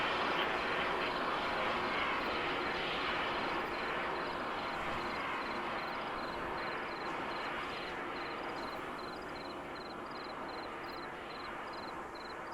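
Aircraft engine in the Arma 3 video game, a steady broadband roar with a high whine, holding constant and easing slightly toward the end, with no talk.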